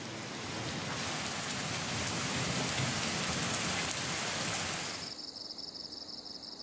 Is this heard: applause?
no